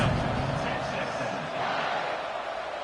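A stadium crowd in an NCAA 26 college football video game, Texas vs. LSU, keeps up a dense, steady roar of cheering at kickoff, loud and continuous, with a commentator talking over it.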